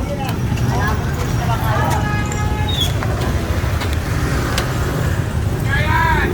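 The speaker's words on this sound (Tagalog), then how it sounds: "Traffic." Steady road traffic rumble on a street near a school, with passing vehicles and faint background voices throughout.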